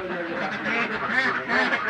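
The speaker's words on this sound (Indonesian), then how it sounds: "Dalam satu kotak ini sekali lagi pemirsa 60 ekor itik, satu jantan, 59 ekor betina." Ducks in a laying box, sixty egg-laying ducks with one drake and fifty-nine hens, quack in a close, loud, overlapping chorus of nasal calls.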